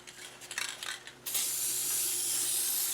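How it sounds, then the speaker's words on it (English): After some light rustling, an aerosol can of rust proofing sprays in one long, steady hiss onto the pivots and inside of a Land Rover 109 clutch and brake tower, close and continuous until the end. "Spray all the pivots, all the inside of that container with a bit of rust proofing"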